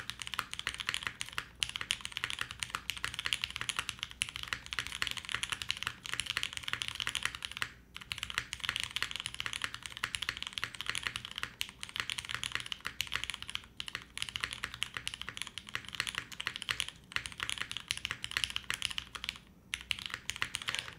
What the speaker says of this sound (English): let me just type in some random stuff here.